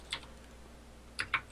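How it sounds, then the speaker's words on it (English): Keys on a mechanical keyboard clack in a few separate, crisp clicks, one alone and then a quick pair, close by in an otherwise quiet room. "That was a nice mechanical keyboard."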